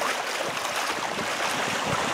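Strong wind gusting across a lake, with whitecap waves churning and breaking in a steady, dense roar that fills the scene and drowns out any other sound.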